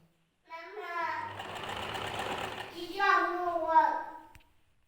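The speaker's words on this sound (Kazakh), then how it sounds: "Одан кейін аберлоктаймыз." An overlocker serges a seam on a long dress, its steady motor whir and rapid stitching running for a few seconds at close range while a voice talks over it.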